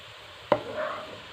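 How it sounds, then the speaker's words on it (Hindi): A single sharp knife chop strikes a board while onion and spices are cut into a paste, followed by a brief scraping sound, with no one speaking. "और इसका पेस्ट बना लेंगे चॉप करके।"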